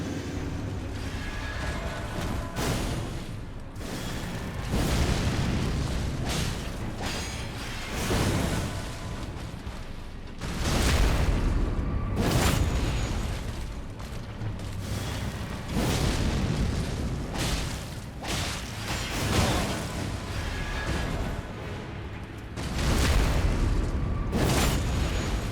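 Explosions from weapon skill attacks in Elden Ring, including an Eclipse Shotel build: heavy booming blasts recur every few seconds over a dense, rumbling game soundscape.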